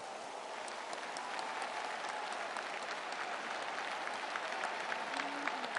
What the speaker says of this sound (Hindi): हम जोरदार तालियों से उनका अभिनंदन करते हैं।